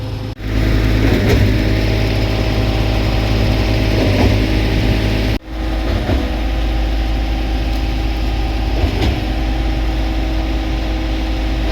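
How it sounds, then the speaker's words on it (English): Concrete pump running steadily during a big foundation pour, a loud continuous engine drone with a brief dropout midway, close and dominant with no talking. "I'm kind of hoping this pump stops pretty soon."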